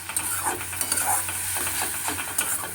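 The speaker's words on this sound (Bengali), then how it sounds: "এটা দিয়েও খুব ভালো করে নাড়াচাড়াতে হবে কিছুক্ষণ" Ground coriander, cumin and dried chili powder stirred with a little water in a pan for a rohu fish curry: a steady close sizzle with repeated scraping stirs throughout.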